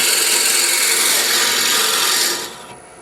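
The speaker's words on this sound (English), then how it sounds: "As we drill out this last one," Steady, continuous grinding of a drill bit boring into wood for napkin rings, loud and close, easing off toward the end.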